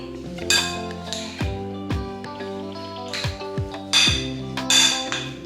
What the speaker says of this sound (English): Make sure you mix it well.